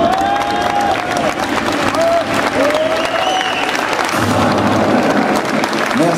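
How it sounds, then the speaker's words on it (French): An audience at a festival awards ceremony applauds a film adviser invited onto the stage, with steady crowd clapping and some cheering and a voice or two heard over the applause. "Vous pouvez l'applaudir."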